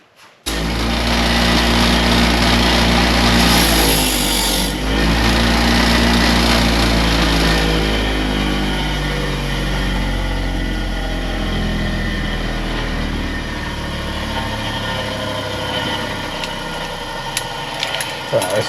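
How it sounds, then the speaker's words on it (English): A bench wire wheel scrubs a metal headlight ring during an LED headlight upgrade: a loud, steady motor whine runs nearly the whole time, with the tone sagging briefly around the fourth to fifth second as the ring is pressed against the brushes. "Let's go clean this thing up on the wire wheel."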